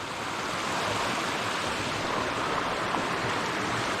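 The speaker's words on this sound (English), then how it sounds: "still there's a lot of water flowing" A creek beneath a bridge on a nature preserve trail rushes steadily and loudly, a dense, unbroken wash of flowing water with no pauses and no voices.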